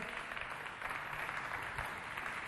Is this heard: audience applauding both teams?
yes